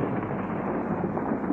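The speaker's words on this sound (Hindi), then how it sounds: "आप साउंड सुन सकते हैं, बिजली के कड़कने की साउंड।" Thunder rumbling through foggy stormy mountain weather near Ranikhet, a continuous loud low roar filling the whole moment without any voices.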